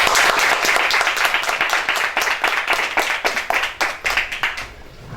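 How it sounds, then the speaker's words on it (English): A crowd at an indie podcast festival claps in sustained applause, a loud, dense patter of many hands that thins into more distinct individual claps near the end. "Give yourself a round of applause for getting out here."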